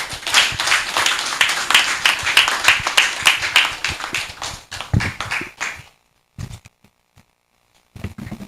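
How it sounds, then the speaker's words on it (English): Audience applause at a public PhD defense, a dense, steady roomful of clapping for several seconds that stops abruptly, leaving near silence broken by a few faint taps and knocks. "Another round of applause for Julian"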